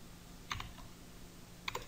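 A computer keyboard is used to type a spreadsheet formula in two short, quiet bursts of rapid key clicks, separated by about a second of near silence.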